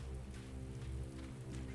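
Steady rain falling in Resident Evil 2 Remake, a continuous close patter of drops over a low droning hum, with no break and no voices across the short stretch.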